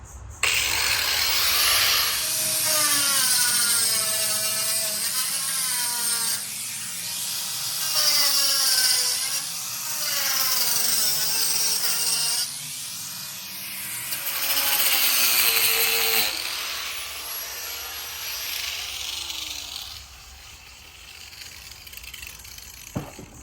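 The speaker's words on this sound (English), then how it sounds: "So let's go ahead and cut this wire off, the excess anyway." Excess wire being cut at a chicken coop, a loud close run of repetitive metallic rasping and grinding strokes in long sweeping bursts, fading to a quieter tail with a final click.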